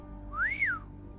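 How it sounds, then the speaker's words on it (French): A character in the video game Honkai: Star Rail gives a single short whistle that rises and falls in pitch, clear and close over a quiet background hum, with no talk. "Pourquoi elle siffle elle?"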